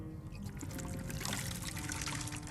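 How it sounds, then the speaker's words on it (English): Water pouring steadily into a water skin in Skyrim, a short close trickle over faint background ambience. "could I get my water skin refilled, please?"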